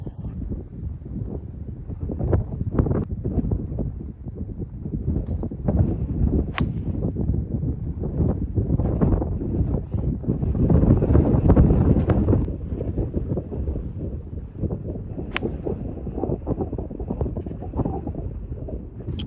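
Steady wind buffets the microphone on a cold golf course in Devon, a constant low roar that swells and eases, with a few faint knocks in the gusts and no talk.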